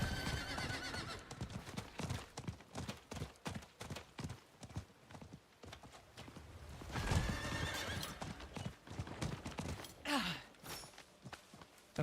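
Horse mount in the Diablo 4 video game: steady clip-clop of hooves trotting throughout, with a neigh and snorting breath partway through, close and moderately loud.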